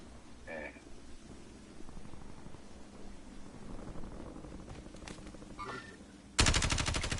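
Automatic gunfire bursts in Call of Duty Warzone's Verdansk map, steady rattling shots under a busy battle ambience, ending in a loud, dense burst of rapid fire.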